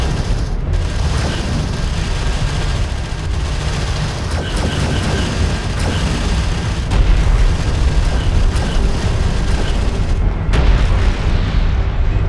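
Heavy weapons fire and booming impacts against an armored vehicle in the desert real-time strategy game Homeworld: Deserts of Kharak, a loud continuous rumble with repeated sharp blasts throughout and no talk.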